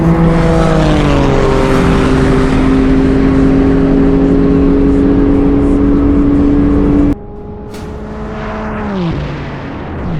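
A Porsche 911 Turbo and a Mercedes AMG GT-R race past at high speed on a half-mile course, loud engine roars with falling pitch as each car sweeps by, the first for about seven seconds and then the second, no talk.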